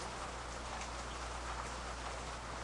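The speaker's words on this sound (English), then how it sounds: "Why is it always raining?" Rain falling in a cooking video game, a soft continuous patter with a low steady hum beneath, faint and unbroken throughout.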